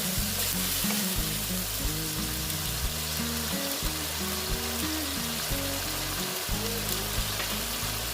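Cumin seeds frying in hot oil over lowered heat, a steady close crackling sizzle that continues throughout with small pops, with no voices.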